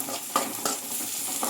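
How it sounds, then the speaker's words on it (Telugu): Tomato pieces are stirred into onions frying in a pan, with a close, steady sizzle and a few quick spoon scrapes in the short stretch, and no voices. "ఈ టమాటో ముక్కలు ఒకసారి వేసుకొని ఇలా బాగా కలుపుకొని"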